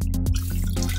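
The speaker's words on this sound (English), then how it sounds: "Let the grain bag continue to drain in the other container." Wort drains from a lifted grain bag into a container after the mash on a home brew-in-a-bag day, with close, loud dripping and splashing that falls in quick irregular drops.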